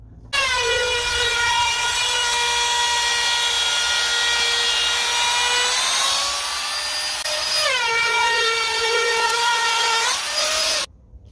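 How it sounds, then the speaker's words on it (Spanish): A palm router with a cove bit cutting a moulding for a frame in wood, a loud, close high-pitched whine running steadily with a brief dip in pitch under load mid-cut before it winds down. "Vamos a ocupar esta broca de media caña para hacer una moldura para un marco."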